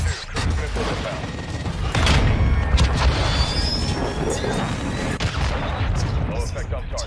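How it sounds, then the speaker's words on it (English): Cruise missile strike explosions in Modern Warfare 2, heavy booms and crashing blasts mixed with gunfire and mechanical clatter, loud and close, with voices talking over the battle. "Trojan 6-2, cruise missile inbound."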